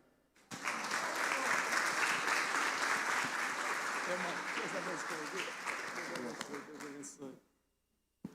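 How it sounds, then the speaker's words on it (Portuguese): Church congregation applauding during a missions service, a dense sustained wash of clapping lasting about seven seconds before stopping abruptly, with voices mixed in underneath. "Pode aplaudir o Senhor Jesus mais forte, Ele é fiel."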